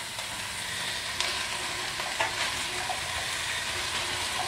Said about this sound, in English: And then again I'm going to add the veg in, so all of the parsnips, all of the carrots.